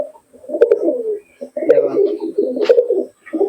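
Giribaz pigeons at a pigeon sale in Murshidabad coo in several close, repeated throaty phrases with short pauses between them, near and clear.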